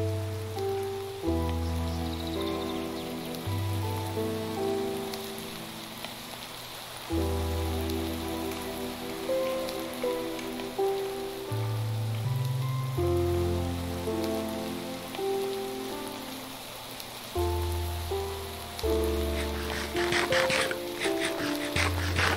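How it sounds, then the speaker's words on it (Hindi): Rain falls steadily in Minecraft as a soft, continuous hiss of drops on surfaces, running throughout beneath the game's sustained musical tones. "ओके ये लो बरसात हो गई, काफी टाइम से बरसात चल रही है।"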